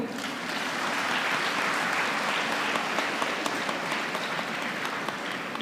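A large audience at a university convocation ceremony applauds continuously, a dense, even wash of clapping from a big hall, steady and fairly loud throughout.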